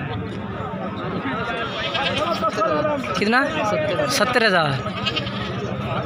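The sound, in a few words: Makhi Cheeni goats bleating at a livestock market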